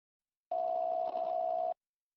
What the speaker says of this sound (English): 3 seconds of dial tone stretched for an eternity.